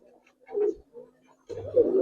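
Giribaz pigeons coo in two soft bursts separated by a pause, the second fuller and slightly louder, close to the microphone with no talk.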